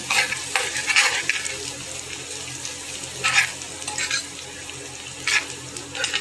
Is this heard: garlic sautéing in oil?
yes